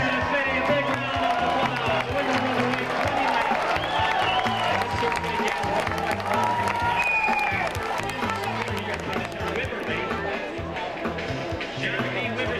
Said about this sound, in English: In the big end, Nevada City, a big round of applause.